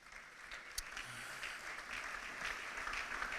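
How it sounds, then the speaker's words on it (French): A church congregation at an Easter Sunday service breaks into applause, a dense, even patter of clapping from many hands that carries steadily throughout. "Acclamons la parole du Seigneur"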